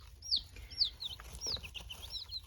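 Chicks in a coop make close, high chirps and soft clucks, several overlapping peeps repeating over a faint background hiss, with no talking.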